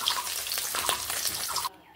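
Koi fish fry in a pan with a loud, dense, steady sizzle that cuts off abruptly near the end.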